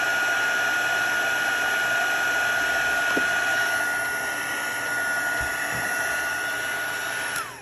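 A heat gun blows steadily on a shrink plastic charm, a continuous close whine and airy rush with a few faint clicks, cutting off at the end.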